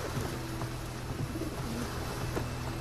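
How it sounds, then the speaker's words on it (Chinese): A carrier pigeon coos softly in a few low, throaty calls over steady background noise aboard a boat on the water. "这鸽子真能送信。"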